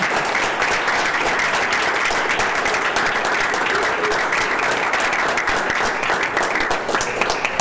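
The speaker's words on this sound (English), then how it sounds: "So let's give her a round of applause." A room at a school board meeting breaks into sustained applause for an honoree, dense and steady clapping from many hands lasting throughout, fairly loud and close, with no break.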